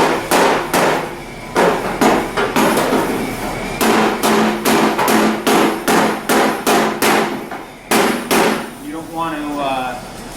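A hammer with a polymer-type head taps out dents in the body panel of a 1973 Oldsmobile Omega under restoration, striking in rapid rhythmic bursts of sharp close blows with short pauses, with a brief scraping sound near the end.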